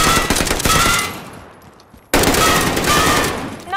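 Machine gun fire in Call of Duty: Warzone: two loud, sustained bursts of rapid automatic shots, the first fading away before the second starts abruptly, close and dominant.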